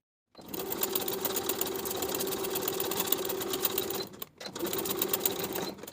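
A sewing machine sews a seam in linen shorts, whirring steadily at speed with a fast regular needle rhythm, pausing briefly near the end before resuming.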